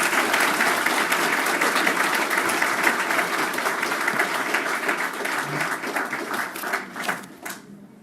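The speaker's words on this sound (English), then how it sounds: "Please give her a round of applause." Audience applause fills a dinner hall at a Nisei veterans banquet, a dense, steady wash of many hands clapping for several seconds, then thinning and fading toward the end.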